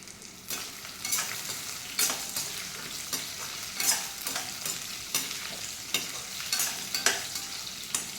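Grated coconut sautéing in a pan, stirred in a regular rhythm of scraping strokes with sharp ladle taps about every second over a light sizzle; close, no talking.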